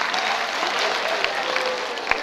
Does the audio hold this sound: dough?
no